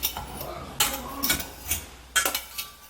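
Cooked apples clatter out of a pot into a Baby Bullet blender, with two sharp metallic clinks of pan against the cup and softer scraping taps in between, close and fairly quiet.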